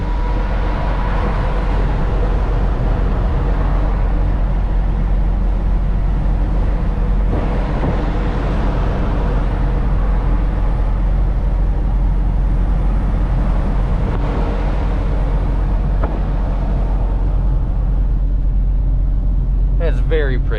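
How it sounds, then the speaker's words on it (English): Wind roars loudly and steadily through an open car window while driving on a road trip toward Florida with a trailer hooked up, a constant broadband rush with deep low rumble and no clear talk. "Here, I'll roll down the window. You guys won't be able to hear me because of the wind"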